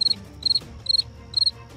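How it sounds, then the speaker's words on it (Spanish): Crickets chirp as a sound effect, four short bursts of rapid high chirps repeating at an even pace, clear and close with nothing else beneath them. "Grillos, por favor."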